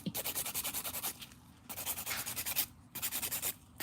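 A noisy nail dust collector runs during a dip-powder manicure, giving a steady whooshing, rubbing drone that pulses in quick regular waves and drops out briefly a few times, close and alone.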